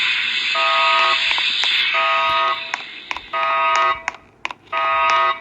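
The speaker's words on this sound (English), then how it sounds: "Why is there an alarm?" Inside a police station, an electronic buzzer alarm sounds in repeated loud pulsing bursts of about a second each, separated by short gaps, with faint clicks between them.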